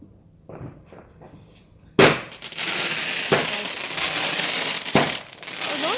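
Bonfire night fireworks go off nearby: a few faint pops give way to a sudden loud burst, then a sustained crackling roar broken by sharp bangs, with no talking.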